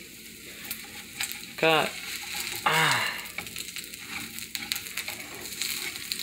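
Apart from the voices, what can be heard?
turkey bacon frying in a pan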